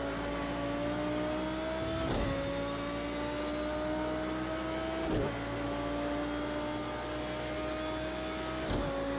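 A GT3 race car in Project Cars 2 held in a steady engine drone, its rising pitch cut short three times by quick upshifts on a straight, each one a brief dip before the engine climbs again.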